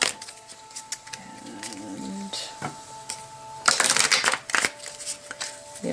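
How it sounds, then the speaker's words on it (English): Fairy Guidance Oracle cards by Paulina Cassidy shuffled by hand, making a soft riffling and flicking rustle in short bursts, the loudest toward the end, over a faint steady hum. "Now we're going to shuffle the Fairy Guidance Oracle by Paulina Cassidy."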